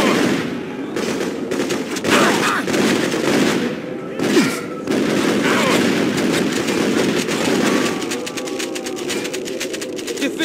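Dense video game battle din of rapid gunfire and booming artillery fills the scene at steady loudness, with shouted voices breaking in at times.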